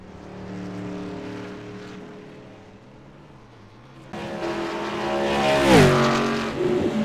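Diecast race cars in a Grand National-style event circle behind the pace car under caution, a low engine drone that swells into a louder, close pass with a sharp pitch sweep near the end.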